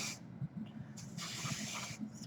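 Two close bursts of aerosol root cover spray on hair hiss steadily, the second longer, separated by a brief pause, with a low hum underneath.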